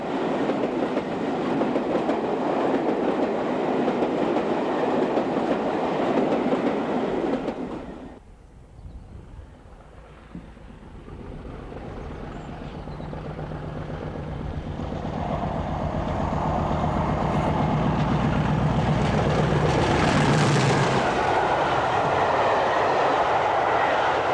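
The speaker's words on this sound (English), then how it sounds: "50019 is seen near Chasewater on an Exeter to Penzance working" British Rail class 50 locomotive 50019 hauls an Exeter to Penzance train near Chasewater, a loud diesel roar and rolling clatter that cuts away abruptly, then a quieter engine drone builds steadily and rises again toward the close.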